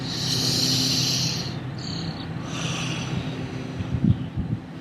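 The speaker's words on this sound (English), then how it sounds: "So take a nice deep breath in." A slow, deep breath is drawn in close to the microphone, a soft airy rush that swells and fades, then follows with quieter breathy sounds and a few small snuffles.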